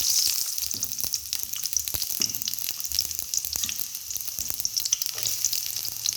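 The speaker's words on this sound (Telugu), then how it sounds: "మనం ఇప్పుడు ఆయిల్లోకి కట్ చేసిన ఉల్లిపాయలు," Chopped onions sizzle and crackle in hot oil in a kadai, a steady close frying hiss with scattered pops and occasional stirring scrapes throughout.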